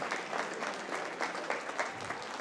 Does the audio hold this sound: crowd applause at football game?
yes